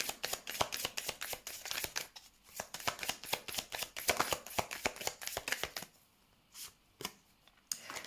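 Tarot cards are shuffled close up in quick bursts of crisp riffling flutters, pausing briefly midway and trailing off into a few separate taps, with no talk.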